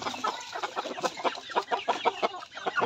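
Shamo chickens clucking busily at feeding time, a close run of repeated short clucks and calls with no talk.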